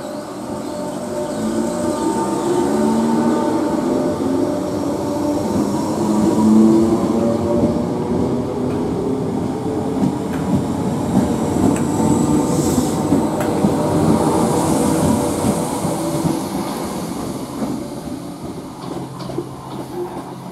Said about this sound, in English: 313202, departs Barnham for Bognor Regis.